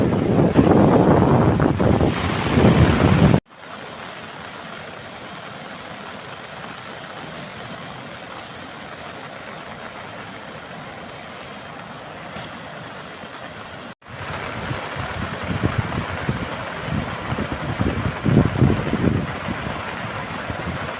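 The Kolak river in heavy-rain flood pours over a causeway, a loud continuous rushing roar of turbulent water, with an abrupt drop to a quieter, steadier section in the middle before the louder rush returns.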